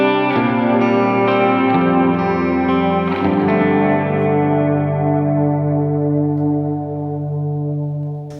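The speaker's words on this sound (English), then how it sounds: "this is quite a big kind of ambienty reverb" Electric guitar chords played through a big ambient reverb pedal, loud sustained harmonic tones that shift a few times and then hang in a long, washy tail fading slowly.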